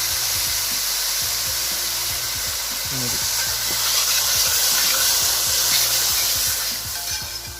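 Curry leaves sizzle and hiss in oil with frying onions for a spicy Idukki-style rabbit curry, a steady close crackle with brief stirring clatter, no talk.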